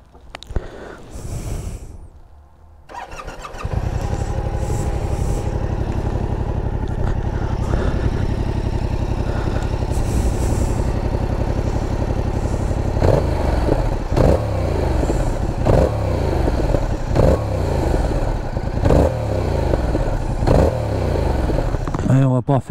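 Yamaha R7 two-cylinder motorcycle engine starting up after a short handling noise, then idling loudly and giving a series of sharp throttle blips that rise and fall in rhythmic bursts, close up, with no voices.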